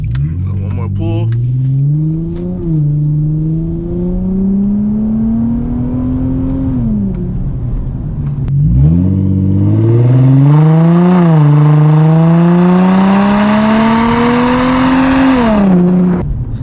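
Infiniti G35 with a muffler delete revving hard and accelerating, its loud raspy exhaust note climbing and falling through several pulls, close and continuous.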